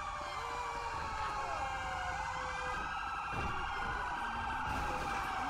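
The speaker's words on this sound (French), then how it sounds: "Ok, regardez-moi ça là, toutes les ambulances qui arrivent." Ambulance sirens in GTA 5 wail continuously as several emergency vehicles arrive at a highway truck fire in Blaine County, overlapping tones sweeping up and down over a steady bed of traffic and engine noise.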